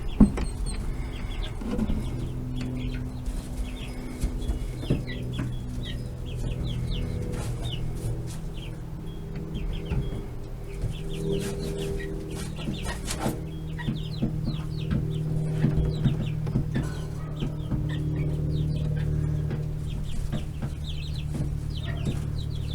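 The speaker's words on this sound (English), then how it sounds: "When I got the chickens, I didn't pay attention to what kind they are" Backyard chickens clucking on their first day outside, a steady chorus of soft, repeated clucks at moderate distance over a low, constant background rumble.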